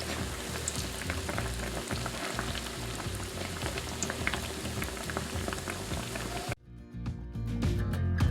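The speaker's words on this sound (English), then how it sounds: "My oil is pretty hot, so that's why they're cooking so fast." Apple fritters crackle and bubble steadily in hot oil, a dense, loud, continuous frying sizzle that drops briefly near the end, then returns stronger.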